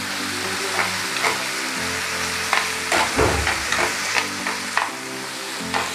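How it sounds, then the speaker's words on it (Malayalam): Onion, capsicum and tomato sauté for restaurant-style chilli pork, a steady close sizzle running throughout with intermittent scraping stirs of a spatula in the pan, no voices. "അപ്പോൾ അതും ഒന്ന് വഴറ്റി കൊടുക്കാം."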